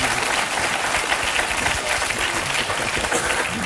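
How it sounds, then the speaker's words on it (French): Audience applause with children clapping at a comedy show, a dense, steady wash of clapping that fills the whole stretch with no break or talk over it. "les enfants qui ont applaudi"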